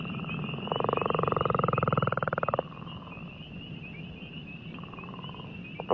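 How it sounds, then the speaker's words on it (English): A recorded call of a northern leopard frog in a wetland: a low, rapid snoring rattle lasting about two seconds, then a shorter fainter repeat, with quiet background hiss. "So that is our northern leopard frog."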